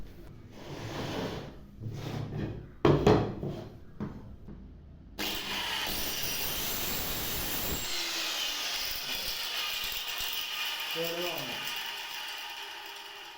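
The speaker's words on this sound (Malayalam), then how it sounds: "ഞാനിപ്പോൾ റൂട്ടർ വെച്ചിട്ട് ഞാൻ കുടുംബം എടുക്കുന്നത് നിങ്ങൾക്ക് കാണാവുന്നതാണ്" An electric router cuts a mortise in wood for a wooden easy chair: after a few seconds of scattered knocks and handling noise, the motor kicks in abruptly and holds a loud, steady, high-pitched whine until the end, easing slightly at the close.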